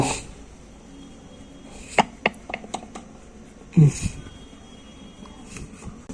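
A knife cutting food in half while making chotpoti, a few sharp close taps of the blade on a board, scattered across a quiet kitchen background with faint talk.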